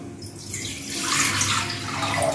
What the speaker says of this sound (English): I put a little bit of water.